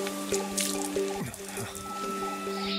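Water drips steadily from a sacred spring at a Buddhist temple in a forest, with soft repeated plops over a constant humming background, close and moderately quiet.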